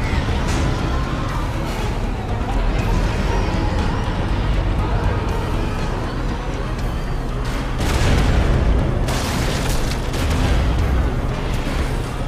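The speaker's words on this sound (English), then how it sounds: "shooting to clear debris. It makes it a bit faster." Booming gunfire and crashing blasts from the video game Prototype as shots clear debris, a dense, loud, continuous barrage with heavier bursts throughout.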